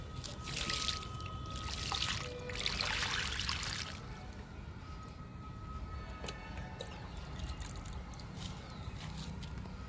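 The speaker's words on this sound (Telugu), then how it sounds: "సీతాఫలానికి ఇస్తున్నా వాటర్" Water trickles and splashes onto the soil and leaves of a custard apple plant, strongest in the first few seconds, then a softer steady dribble continues with faint background noise.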